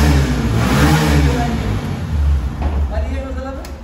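A new Bajaj Pulsar N250 motorcycle engine starts, rumbles and revs up over steady background noise, with a voice speaking briefly near the end.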